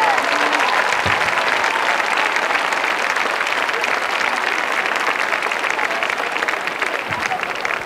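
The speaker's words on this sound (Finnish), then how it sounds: "oteta kuitenkin sitten koko porukalle raikuvat aplodit" Crowd applause at a stadium horse harness show before prize-giving, a loud, unbroken roar of clapping sustained for several seconds with a couple of low thumps.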